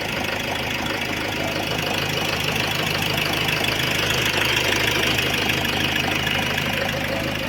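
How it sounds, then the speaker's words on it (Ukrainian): An Opel Vivaro 2.0 CDTI diesel engine runs steadily after injector replacement, a loud, continuous idle with an even knocking rumble close by throughout. "Все працює добре. Працює вже добре, не троїть."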